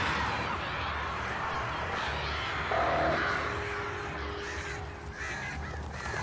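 Crows caw repeatedly in the Alan Wake video game, loud and layered over a dense ambient game soundscape, with the calls overlapping one another across the whole stretch.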